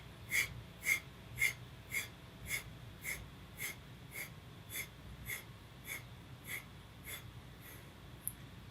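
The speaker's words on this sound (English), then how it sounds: "let's add our Kapalabhati breathing" Rhythmic Kapalabhati yoga breathing: about fourteen sharp, forceful nasal exhalations repeat at a steady pace of roughly one every half second, close and moderately loud over a low background hum, with no talking.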